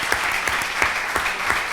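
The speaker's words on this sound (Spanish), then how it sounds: "Un aplauso." A studio audience at a talk-show gathering claps in sustained applause, dense and even, with brighter individual claps standing out over the short burst.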